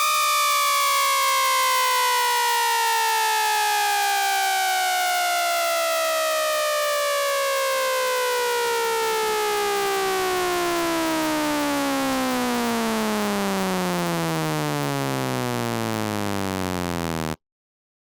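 A screaming bass synth patch built in NI Massive within Ableton rises in one long continuous sweep, its bright stacked harmonics gliding steadily for about seventeen seconds, loud and alone, then cutting off abruptly.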